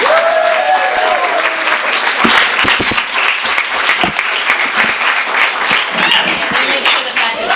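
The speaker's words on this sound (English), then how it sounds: "Let's please give a warm round of applause." Loud, warm audience applause welcoming a guest at an author book event, sustained close clapping with a few cheers and voices mixed in throughout.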